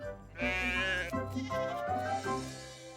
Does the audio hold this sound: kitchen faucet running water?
no